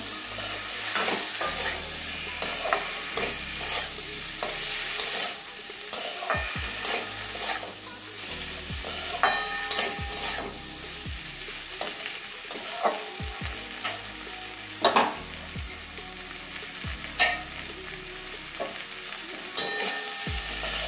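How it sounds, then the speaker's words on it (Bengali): Potato, aubergine and tomato with lentil dumplings being stir-fried in a pan for a Bengali charchari, a constant sizzle punctuated by frequent clattering spatula scrapes and stirs. "ভালো করে কষিয়ে নেব সবগুলো, বেগুন, আলু, টমেটো।"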